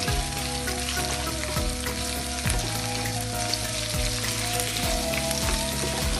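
Chopped garlic, ginger and green chilli sizzle loudly and steadily in hot oil in a pan, a dense continuous crackle with a low hum underneath and a few faint clinks, no voices.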